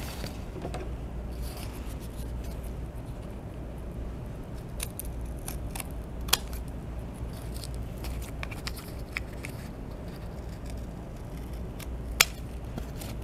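Scissors snipping through material while cutting rounded corners off a DIY ramp walker toy, a run of soft close cuts and rubbing with a few sharper clicks, no talking.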